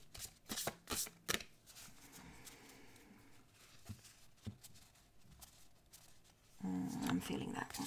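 Oracle cards are shuffled by hand with a run of crisp riffling slaps and softer sliding, close and fairly quiet, followed by a denser burst of shuffling at the end, with a voice heard faintly.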